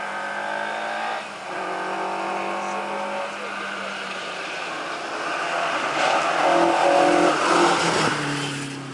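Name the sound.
rally car engine revving on stage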